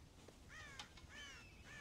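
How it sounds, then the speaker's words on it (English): Several crows caw in the Red Dead Redemption video game, harsh drawn-out calls repeating faintly over a steady outdoor background hiss, with no talking. "God damn crows!"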